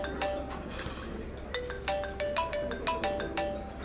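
A mobile phone ringtone plays a repeating pattern of short bright beeping notes, faint at first and then pulsing in a steady rhythm, close by in an indoor scene.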